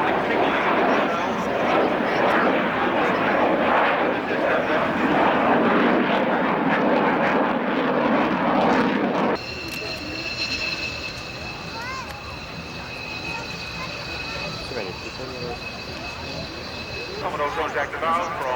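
A military jet performs a flying display at an airshow, a loud, broad engine roar that later drops away to a thinner, distant whine.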